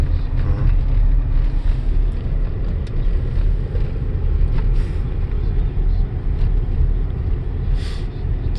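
Continuous low rumble of a car driving along farm roads through hemp fields, with steady road and wind noise close to the microphone.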